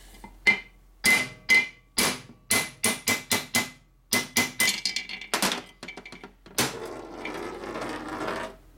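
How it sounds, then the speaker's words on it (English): A small hammer taps on a transmission part from a 1967 Harley-Davidson 74ci Shovelhead FLH, sharp metallic strikes in uneven bursts of single blows and quick runs, loud and close, followed by a longer scraping rattle. "We'll use our small hammer."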